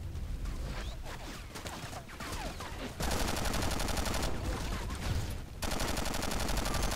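Gunfire rattles through a Battlefield Heroes match as dense, loud bursts of shots overlap continuously, with brief dips in intensity between volleys and no speech.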